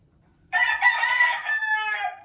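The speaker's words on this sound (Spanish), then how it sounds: "estos son los gallos que seguimos conservando aquí de esta línea" A rooster in Quiroga, Michoacán lets out a single loud, close crow that starts abruptly and trails off over about two seconds, with no talk over it.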